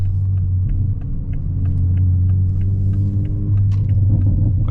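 A modified fifth-generation Toyota Supra accelerates, a deep steady exhaust rumble and drone heard from inside the car, loud and close, with faint ticking on top.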